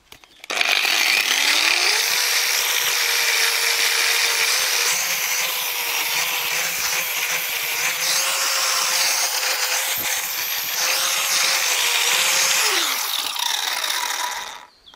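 A handheld disc grinder runs at full speed with a steady high whine and harsh grinding hiss, spinning up at the start and winding down at the end, alone and close.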